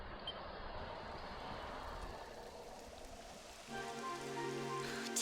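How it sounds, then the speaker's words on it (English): Steady rain falls in the fantasy game Dragon Quest XI, a dense even hiss that swells louder partway through as a light musical tone joins underneath. "It would have to go and start raining, wouldn't it?"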